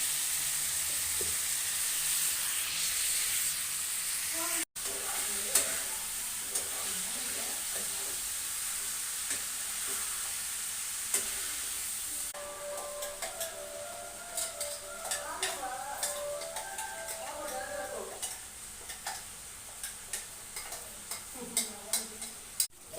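Ground masala paste for a chicken curry fries in a pan with a steady sizzle, a sharp hiss early on, then quieter bubbling and scraping strokes of a spoon with occasional clinks against the pot.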